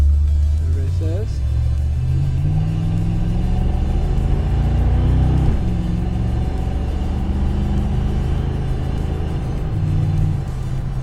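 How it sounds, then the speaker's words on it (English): A 1980s Chevrolet square body pickup with a cammed small block 350 V8 and 3.08 gears idles and revs close by. Its deep, lumpy rumble swells toward the middle and then settles back to a steady throb. "there's nothing better than a simple cammed small block 350"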